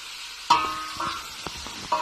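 Carrots and garlic stirred in a frying pan, with a sharp scrape at the start, a steady sizzle throughout and several more spoon scrapes and knocks. Close and fairly loud, with no talking.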